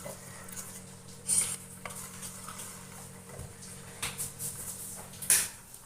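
Homemade neem soap mixture is stirred in a bowl, with steady scraping and swishing and two bright clinks of the utensil against the container.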